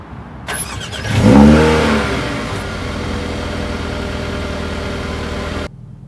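Mercedes-AMG A35 cold start, the engine catching with a loud exhaust flare that rises and then settles into a steady, fairly loud high idle before cutting off.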